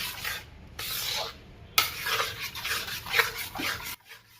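A hot mohanthal mixture of gram flour and ghee is mixed quickly in a pan, giving close, rough scraping and rubbing strokes in fast bursts with brief pauses. No one talks.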